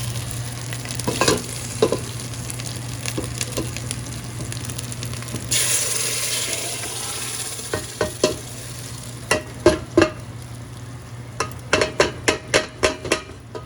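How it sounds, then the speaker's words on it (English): Tomato frying in oil for jollof rice, with a steady, close sizzle throughout and a run of sharp spoon scrapes and clinks against the pot as it is stirred, growing busier toward the end. "Just stir this and let this fry."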